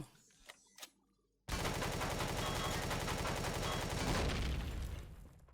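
Turret gunfire from Empyrion Galactic Survival opens after a few quiet knocks into a loud, dense, continuous automatic stream that rattles on without a break until the very end.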